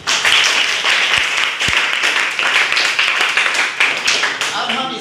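A group of students in a classroom claps together in a dense, rhythmic burst of applause lasting several seconds, close and lively.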